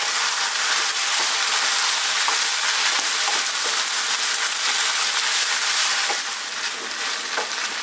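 Green chili and spices fry in a pan for a lentil dal, giving a steady, bright hissing sizzle close by, with faint scrapes and taps as they are stirred continuously.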